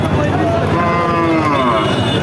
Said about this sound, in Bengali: আপনাদেরকে আমরা দেখাচ্ছি কিছু বড় বড় গরু